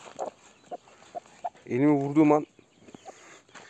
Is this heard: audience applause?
no